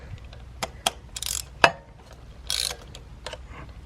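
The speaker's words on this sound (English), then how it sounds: "then I'll go ahead and use the ratchet" A ratchet tightening a spark plug on a Lancer Ralliart gives a handful of sharp metallic clicks, spaced irregularly, plus a brief burst of rapid ratcheting, close and clear with no speech.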